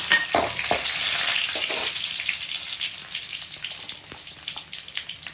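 Garlic, cloves, cinnamon and poppy seeds sizzle and crackle in hot oil in a pan, a steady bright frying hiss with a few stirring clinks and spits, close and fairly loud.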